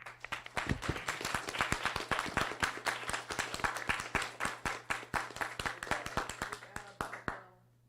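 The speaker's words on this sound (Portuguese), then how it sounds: "Vou agradecer, uma salva de palmas" Close applause from a small colloquium audience, many distinct sharp claps at a brisk, uneven rhythm that thin out and stop near the end, with a low steady hum beneath.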